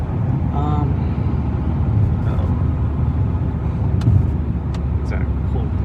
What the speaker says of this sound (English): As I'm driving through traffic and trying to merge.